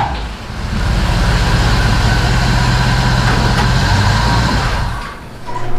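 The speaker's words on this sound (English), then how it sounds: "So I can't get over how good that motor sounds." A Chevy 350 V8 in a 1977 Chevy C10 truck idles loud and close with a deep, even rumble that holds for about five seconds. No one speaks over it.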